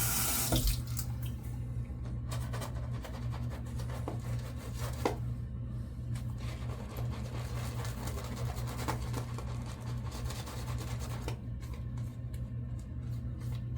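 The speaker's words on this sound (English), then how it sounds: "We're going to add some water." Steady water running from a tap into a sink while working up a shaving lather, a constant splashing hiss with a few faint clinks, no talking.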